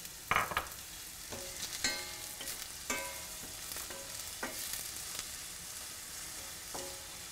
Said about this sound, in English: Let it fry a little bit.